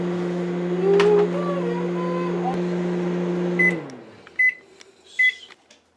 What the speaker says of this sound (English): We're now putting the microwave on 30 seconds.